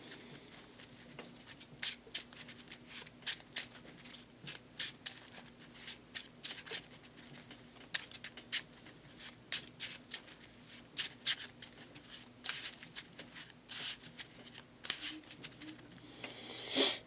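A deck of playing cards for the Marvel Champions card game is shuffled by hand, quiet rapid riffles and soft clicking flutters repeating irregularly for over fifteen seconds, close and alone.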